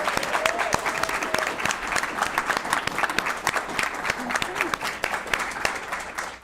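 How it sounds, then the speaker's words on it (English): Audience applause fills a city council meeting chamber, steady dense clapping from a crowd lasting several seconds with a few scattered voices and whistles faintly beneath. "let's give them a round of applause."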